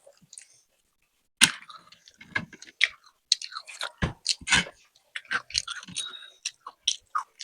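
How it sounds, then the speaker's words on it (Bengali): Several people eating chicken momo, egg mughlai paratha and papri chat during an eating challenge, with close, irregular crunchy bites and wet chewing coming in uneven bursts between quiet gaps. "ধীরে সুস্থে খাচ্ছে ওরা।"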